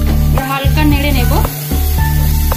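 Potatoes frying in a pan, lightly stirred: a loud, close sizzle with a few scraping strokes, and a tonal voice sounds briefly over it.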